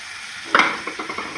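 Tomatoes stirred into a hot frying pan for a curry, one sharp clatter followed by a soft sizzle and a few light scraping taps, close up.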